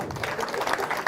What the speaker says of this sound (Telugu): కొడదాం గట్టిగా చప్పట్లు.